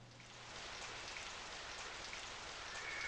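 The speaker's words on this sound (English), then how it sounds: "It's raining." Steady rain in the video game Tail of the Sun, a dense, even hiss of falling drops that holds at a constant level throughout, soft and with no voices.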